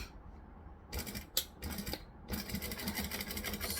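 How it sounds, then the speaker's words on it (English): A sewing machine top stitches along a fabric edge in several short, rapid mechanical bursts. A long continuous run follows, close up and clear, with no talking. "I'm going to top stitch"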